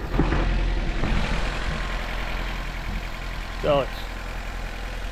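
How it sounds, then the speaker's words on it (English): A quiet, fairly clean-running car engine with factory exhaust idles steadily in a low, even drone, while someone talks over it. "It's very quiet. It's got factory exhaust on it still."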